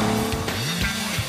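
A TVR Tamora sports car engine revs and shifts pitch up and down loudly and close, with a tire-squeal-like whine over a broad roar.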